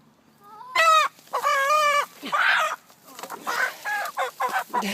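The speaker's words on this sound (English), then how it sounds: "It's one of our chickens" A backyard chicken clucks and squawks loudly at close range in a string of harsh, rising calls with short gaps between them, and no one speaks.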